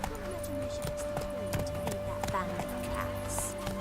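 Roach, a horse in The Witcher 3, walks with continuous hoof clip-clops alongside a faint whinny, while people talk over the hoofbeats.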